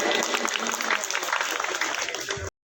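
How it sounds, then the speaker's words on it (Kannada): Dense crowd applause fills a hall at a seer's 51st birthday celebration at Maralegavi Math, welcoming Shri Renuka Swamiji of Shivamogga; loud, continuous clapping for about two and a half seconds before cutting off abruptly, with voices faintly mixed in. "ಸ್ವಾಗತಿಸೋಣ ದೊಡ್ಡ ಚಪ್ಪಾಳೆಯೊಂದಿಗೆ."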